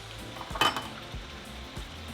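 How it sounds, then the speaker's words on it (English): Potatoes go into a hot pan of browned beef for beef enchiladas, giving a steady sizzle with a brief clatter and a few soft utensil knocks against the pan, close up and without talk. "once our meat has browned, we're going to throw in our potatoes,"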